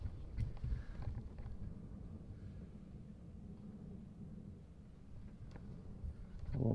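Strong wind and rain on the Isle of Harris, with gusts of up to 48 miles an hour, produce a low, rumbling roar that buffets the microphone, faint and steady with a louder gust at the end.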